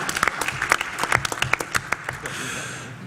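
A press conference audience at an international AIDS conference gives a short burst of scattered clapping, a dozen or so distinct claps that thin out and fade within three seconds.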